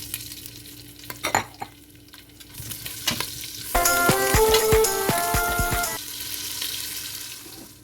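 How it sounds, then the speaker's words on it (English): Sausages sizzle and spatter in a hot pan, the frying loudest in the middle stretch, with a few clinks and scrapes of cookware around it. "I will render the sausages until brown on the edges"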